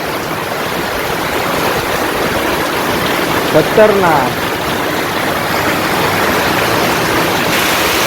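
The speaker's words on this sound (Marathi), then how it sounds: "जबरदस्त मुसळधार पाऊस आला" Heavy rain pours in a steady, dense roar, with a brief voice partway through.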